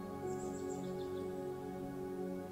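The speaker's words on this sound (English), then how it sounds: "I hear all the birds chirping." Forest birds chirp in the video game Rock Life Simulator: a few faint, high, quick calls early on, set over a steady tonal ambient bed.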